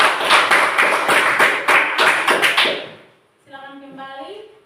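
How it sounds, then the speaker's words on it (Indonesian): Classroom applause for a student group: a short burst of clapping from several students, loud and close, fading out after about three seconds before a voice begins speaking. "beri tepuk tangan untuk kelompok 2."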